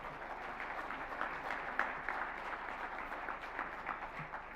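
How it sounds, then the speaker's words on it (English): A conference audience at a closing ceremony gives a round of applause, a soft, steady patter of many hands that sounds faint and somewhat distant and holds evenly for several seconds. "huge round of applause for ICAS 8"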